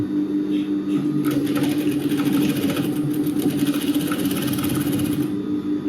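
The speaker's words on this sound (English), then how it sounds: "stitch them together real quick" A sewing machine stitches fabric for a wrap dress, running at a steady close whirr with a low mechanical hum and a rapid needle rhythm that starts after about a second and stops shortly before the end.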